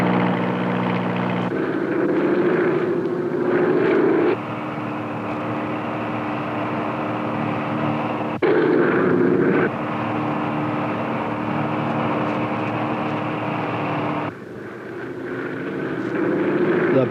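A light plane sweeps low over running onagers during a wildlife capture chase, its engine drone steady and loud throughout, rising and falling in intensity as it passes, with no talking.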